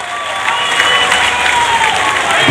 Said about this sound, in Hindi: तीनों के लिए जोर से ताली बजाइए जरा।